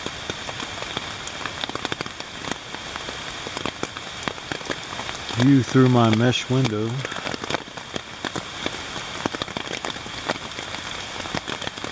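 Rain patters steadily on a tent in the Great Smoky Mountains backcountry, a dense hiss of drops throughout, while someone speaks briefly partway through.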